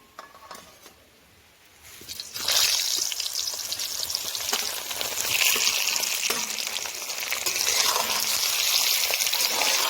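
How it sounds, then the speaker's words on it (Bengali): Peeled potatoes dropped into hot oil already seasoned with bay leaves, cardamom, cloves and cinnamon, a quiet start before a loud, steady hiss of frying builds after about two seconds and holds throughout. "এবারে ছুলে রাখা আলুগুলো দিয়ে দেবো"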